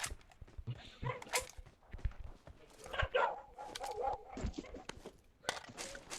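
Dogs barking in scattered bursts, some yips mixed in, with people talking over them in a busy outdoor setting.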